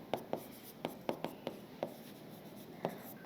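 Chalk or marker taps and strokes on a classroom board during a maths lesson, a series of about ten short, sharp, irregular knocks at close range in an otherwise quiet room.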